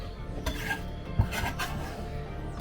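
Cockles are stirred and scraped in an old wok over a wood fire, with metallic rasps and clinks of shells against the pan, one sharper knock midway, all fairly close.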